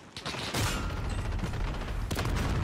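Shotgun fire during a Call of Duty Warzone match, two loud booming blasts in quick succession over continuous game noise.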